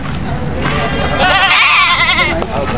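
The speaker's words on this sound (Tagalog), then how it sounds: "Kambing sila, boss." Several goats bleat in wavering, quavering cries, loudest in the middle, with a steady low rumble and some background voices at a livestock auction market.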